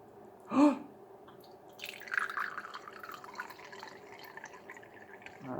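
Kombucha trickles from a small spigot into a little espresso cup, a soft, close pouring and dripping sound with a brief louder splash near the start, then a light running stream that continues at a low level.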